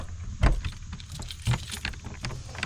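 A bunch of house keys jangles in a few short metallic bursts while the house is being locked up at a homestead, close and fairly loud, with faint background noise between shakes.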